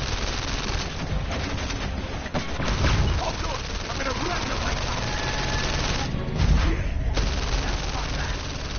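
Rapid bursts of laser gunfire in a PSVR virtual-reality shooting game, a dense continuous rattle of shots with a couple of heavier thumps, heard close alongside a talking voice.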